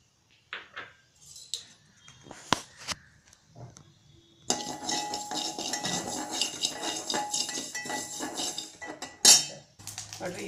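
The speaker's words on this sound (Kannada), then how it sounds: "ನೋಡ್ರಿ ಈ ಥರ ಪಟ ಪಟ ಅನ್ನುತ್ತೆ ಮೆಂತ್ಯ ಆಗೈತೆ ಅಂತ" Fenugreek seeds roasting in a hot pan while preparing green pea usli, giving a dense, steady crackle and sizzle that starts abruptly partway through and continues to the end, with a few sharp utensil clinks before it.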